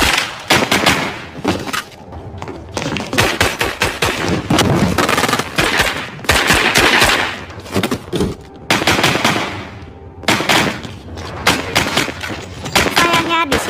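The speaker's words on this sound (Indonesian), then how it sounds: "Sayangnya di sini leher Miller tertembak yang membuatnya langsung tidak berdaya" Dense bursts of automatic gunfire and rapid shots crackle through a war film battle scene, loud and nearly continuous with brief gaps, mixed with booming impacts.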